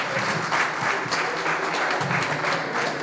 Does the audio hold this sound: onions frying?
no